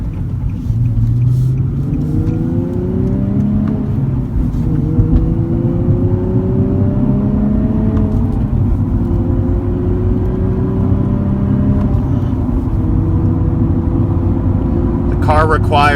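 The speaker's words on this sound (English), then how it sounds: "you'll hear here that there's a lot of road noise and a lot of engine noise" Road and engine noise inside a moving Nissan 370Z Nismo, a loud steady rumble with engine revs rising and falling through several gear changes.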